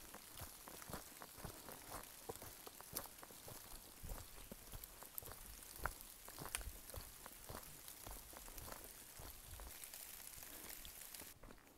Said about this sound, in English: a little rain won't hurt me